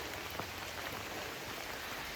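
Steady rain falls during a hike on the trail into Shenandoah, a soft, even hiss of drops on surfaces close around, with no voices.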